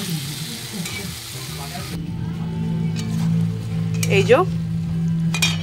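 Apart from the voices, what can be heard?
stirring cashew and ginger paste frying in pan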